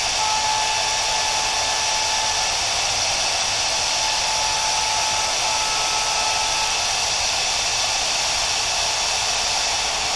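An Origin router fitted with a dovetail bit cuts into wood, giving a loud, steady high whine that holds without a break from start to finish.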